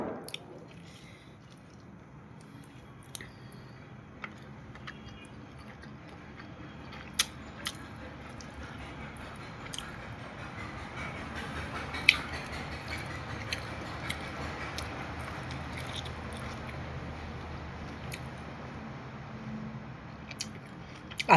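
Someone eats rice with a thin fish curry close to the microphone, producing soft, faint wet chewing and occasional small clicks of fingers and plate in a quiet room.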